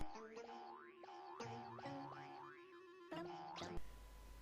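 Springy cartoon boing effects in the style of the original Looney Tunes bounce one after another in quick succession, rising and wobbling in pitch, ending in a burst of hiss.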